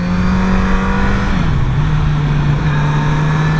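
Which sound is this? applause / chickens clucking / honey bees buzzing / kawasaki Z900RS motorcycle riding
kawasaki Z900RS motorcycle riding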